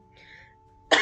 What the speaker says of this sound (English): I'm coughing. I'm sorry.